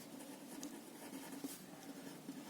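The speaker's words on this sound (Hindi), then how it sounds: "तो यहां पे हम लिखेंगे" Faint, steady scratching of writing on paper while a class 7 maths worksheet on data handling is filled in, soft and continuous with small irregular strokes and no voices.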